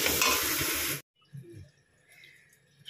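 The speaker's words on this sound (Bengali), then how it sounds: "মশলাটা কষাচ্ছি, পেঁয়াজ রসুন আদা টমেটো আর লঙ্কা" A spice paste of onion, garlic, ginger, tomato and chili sizzles loudly in a pan for about a second, then cuts off to quiet background with faint clinks and shuffles.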